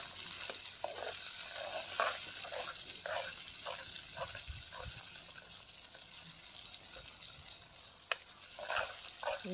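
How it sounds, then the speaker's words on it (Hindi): Spices fry in ghee in a pan for a village-style masala vegetable dish, a faint steady sizzle broken by the scrape and clack of a spoon stirring in a loose, irregular rhythm. "और इसको थोड़ा चलाएंगे।"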